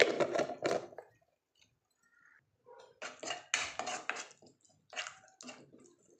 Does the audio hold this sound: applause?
no